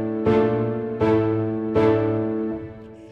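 A chord progression played alone: three full chords struck at an even, unhurried pace, each one ringing richly before the next, then a softer fourth chord that trails away.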